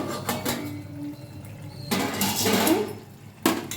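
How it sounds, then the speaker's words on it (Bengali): The lid is lifted off a pot of simmering papaya shukto with chana dal bora, producing close metallic clinks and clatter over a low background hiss, with a final sharp clank at the end. "এবার আমি ঢাকাটা তুলে দিচ্ছি।"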